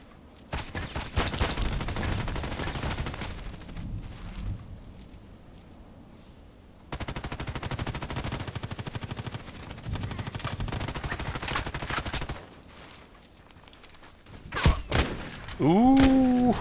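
Sniper rifle shots fired through a house in the Contract Wars shooter game, dense bursts of loud gunfire in two long stretches, with a brief lull between them and a voice near the end.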